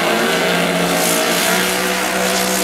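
Twin-turbocharged 1970.5 Camaro drag car engine roaring loud and steady at high power, a dense continuous blast of racing engine noise throughout.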